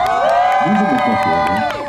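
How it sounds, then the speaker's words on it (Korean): A concert crowd whoops and cheers loudly with high, shrill screams and shouts close by, welcoming a singer before a song at a live outdoor music performance. "여러분 박수로 환영해 주시기 바랍니다."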